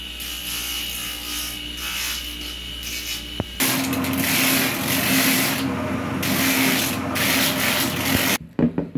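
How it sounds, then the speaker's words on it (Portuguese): A rubber shoe sole being sanded: loud, close, continuous abrasive grinding from a power sander that shifts in tone partway through and then stops abruptly, followed by brief handling sounds. "Acabei de lixar, agora eu vou passar a cola aqui."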